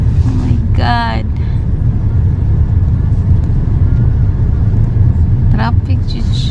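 Road traffic in a jam on the way to work: a steady, loud low rumble of idling and creeping cars, with a couple of brief rising tonal bursts near the start and again near the end.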